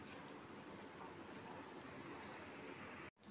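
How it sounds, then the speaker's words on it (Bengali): Kofta balls slowly frying in a kadai of oil over a low flame, giving a soft, even, continuous hiss like light rain, faint and uninterrupted until a brief cut near the end. "এবার আস্তে আস্তে একটু স্লো আঁচে একটু ভাজা হবে"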